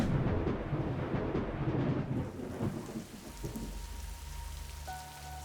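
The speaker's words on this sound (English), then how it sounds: "The rain in these parts of the country can last for days." Heavy monsoon rain pours down in Rourkela, a dense hiss of drops on surfaces with low thunder rumbling beneath, fading somewhat toward the end as a faint steady tone appears.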